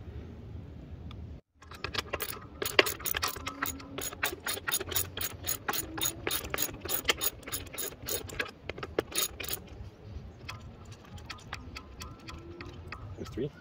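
A ratchet wrench fitted with an extension backs out the screws on a KANIWABA seat structure, giving long runs of rapid, crisp close-up clicks after a brief pause near the start.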